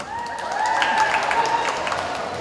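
Audience at a school spring strings concert breaking into applause, a loud, close wash of many hands clapping with a few voices and a sustained tone running underneath.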